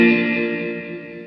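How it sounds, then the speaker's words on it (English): An electric guitar chord rings through a pedalboard with ring modulator, delay and fast-decay reverb, giving a warbly, detuned, metallic tone that sustains alone and fades over about a second. "we're getting like this kind of like weird, warbly, out of tune vibe with the ring modulator and the delay"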